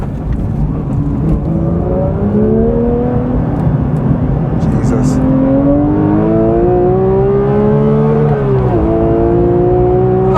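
A Porsche 911 GT3 engine revs hard, its pitch climbing through several rising sweeps and dropping briefly before surging again, loud and close, with a short spoken exclamation.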